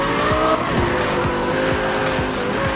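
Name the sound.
car tires skidding from e-brake in a racing video game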